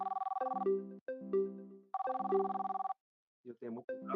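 A WhatsApp call rings on a smartphone as a close, clear electronic ringtone of repeating tonal phrases with short gaps, stopping partway, followed by brief speech.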